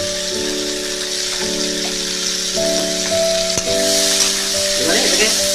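Vegetables and paneer sizzle and fry in hot oil in a kadai, a steady close crackle with occasional stirring scrapes, no talking over it.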